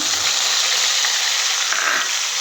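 Onion paste sautéing in a pan for a clam curry, giving a steady, close, bright sizzle with faint scraping of stirring throughout and no talk.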